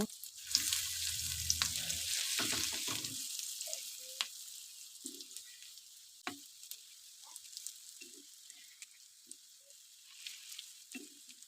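Fish roe fritters frying in a small amount of oil, a steady close sizzle with stirring and flipping clatters near the start, then a quieter continuous crackle with occasional light pops.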